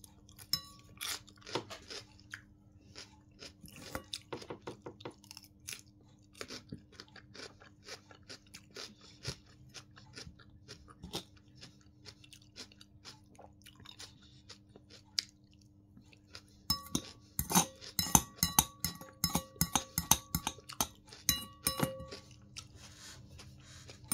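Crunchy diet food being chewed close up, with sharp irregular crunches and bites spread throughout and growing denser and louder toward the end, with no talking.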